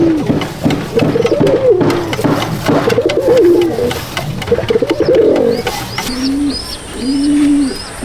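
Pigeons on a tin-roofed loft coo repeatedly in soft, rounded phrases, several birds overlapping close at hand, with a clearer run of coos toward the end and no talk.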